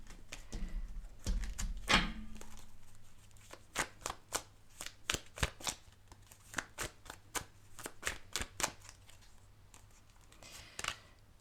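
A tarot deck shuffled by hand before a card is pulled: a soft thump, then a long series of sharp, evenly spaced riffling snaps, close and clear, with no voices.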